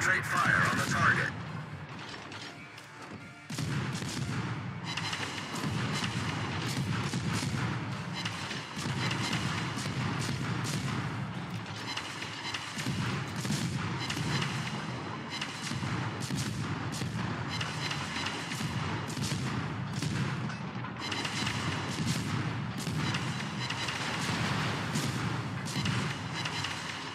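Warship guns firing in a naval battle video game, with the gunboat Lambros Katsonis in the fight, a dense, continuous barrage of booms and mechanical clanks through the whole stretch, and a voice briefly speaking near the start.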